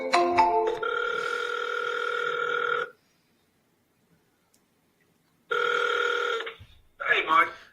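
Outgoing telephone ringback, two long steady ring tones separated by a silent gap, clear and close as if through a phone speaker, with brief voice sounds at the start and after the second ring.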